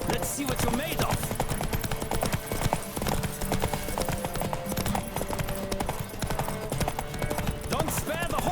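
Hooves of a galloping horse pound rapidly and steadily during a race in The Witcher 3 on PlayStation 5, close and loud, with game music and ambient effects layered underneath.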